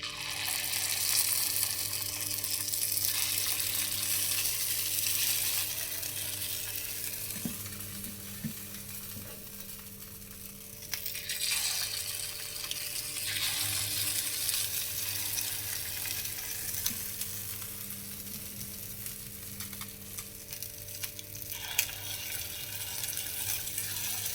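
Paddu batter frying in a hot paddu pan, a steady close sizzle and crackle that runs the whole time with no talk, briefly softening partway through before picking back up.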